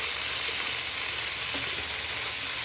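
Bacon and sausages fry in a pan for a sausage, bacon and bean casserole, giving a steady, even sizzle and crackle that runs close and continuous with no talking.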